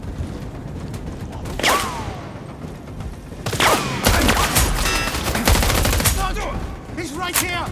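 Gunfire crackles during a fight in Sniper: Ghost Warrior Contracts 2, loud irregular bursts of shots and rapid automatic fire with ricochets and impacts, mixed with shouting voices.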